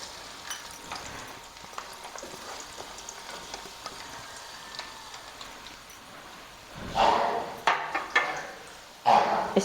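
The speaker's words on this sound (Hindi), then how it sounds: "इसमें मैं डाल दूंगी ये प्याज" Sliced onions sizzling in a cup of hot oil, being browned for a chicken gravy for Lahori hareesa; a steady soft frying hiss with louder sputtering bursts near the end.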